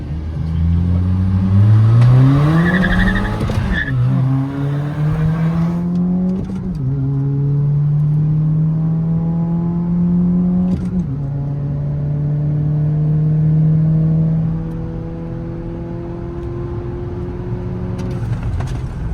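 Two Skoda Laura cars, one Stage 1 and one Stage 2 tuned, accelerate hard in a drag race, engines climbing through repeated rising revs with shift breaks, loud and close, fading toward the end.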